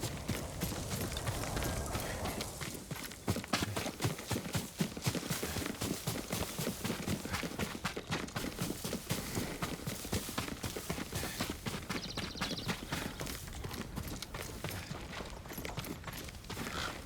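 Horse hooves clip-clop steadily in the samurai action game Ghost of Tsushima, a continuous run of close, rhythmic hoofbeats mixed with dense game ambience and no talk.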